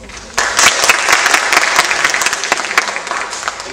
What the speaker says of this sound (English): if you believe the proposition have won,